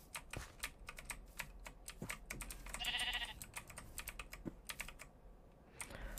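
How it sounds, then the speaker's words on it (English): Sheep bleats in the video game Minecraft, sounding once in the middle amid steady keyboard typing and mouse clicks, fairly close and moderately loud. "let's get started by trying to trap this sheep."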